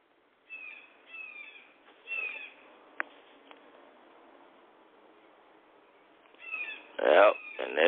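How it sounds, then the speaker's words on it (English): Birds call in the background, faint chirps and short whistled notes in scattered bursts, with louder calls gathering near the end. "Yep, and there go them birds back again."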